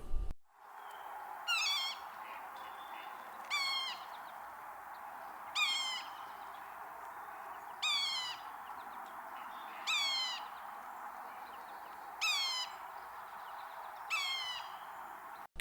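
A soft, nasal mewing call of a sapsucker woodpecker repeats about every two seconds against a quiet, hissy forest background, with no voices present.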